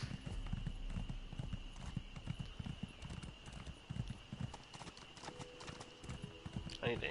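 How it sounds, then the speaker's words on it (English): Horse hooves clip-clopping in steady rhythm while riding in Elder Scrolls Online, fairly quiet, with a person talking over it throughout. "could have been using my horse"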